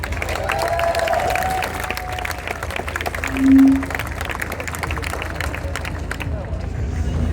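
Crowd applause rises at a refugee welcome rally as a speaker is greeted, a steady wash of many hands clapping amid crowd hubbub, with a voice speaking over it.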